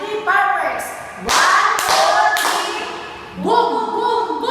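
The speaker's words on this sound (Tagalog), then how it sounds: "They give 3 claps and 3 fireworks." Three sharp group claps from a classroom of children, spread across a few seconds, with young voices chattering and calling out between them.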